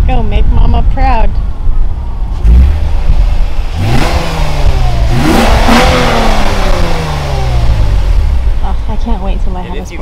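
A naturally aspirated V6 engine in a 2023 Lexus IS 350 F Sport AWD revs hard several times up close, pitch climbing and falling between bursts, with a voice talking over parts of it.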